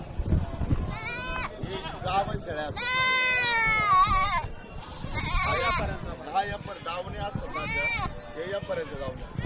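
Many goats bleat loudly and repeatedly, calls overlapping amid a busy, noisy crowd at a livestock market.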